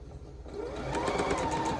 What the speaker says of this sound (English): She's sewing at the speed of light.